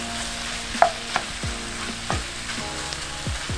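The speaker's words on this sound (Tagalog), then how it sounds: "inaantay lang natin ng 1 to 2 minutes para lang mag-init ang ating sisig sa ating cast iron" Sisig sizzles steadily in a hot cast iron pan, a constant fry hiss punctuated by scraping stirs and light metallic knocks, with no one talking.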